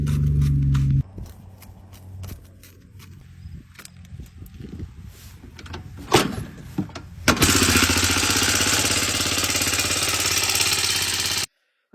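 Honda Big Red three-wheeler engine with a loose exhaust, idling at first, then a stretch of clattering and knocking before it roars up to a loud, steady run that cuts off abruptly near the end.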